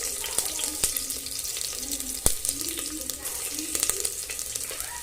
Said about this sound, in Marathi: तेल असे गरम झाले की जिरे, मोहरी, नंतर आपण लसूण घालणार आहोत।